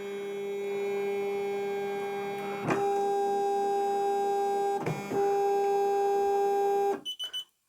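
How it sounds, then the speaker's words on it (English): POOLIN EOC05 embroidery machine running with a steady tonal electric hum, broken twice by brief clunks, then cutting off into a few quick stuttering pulses as it stops. "When you start and stop your embroidery machine"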